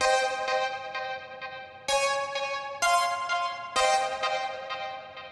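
A saw wave synth pluck run through a psychedelic effects preset plays a repeating pattern of bright, shimmering notes with smeared echoing tails, several strong accented hits recurring roughly every second, loud and with no voices.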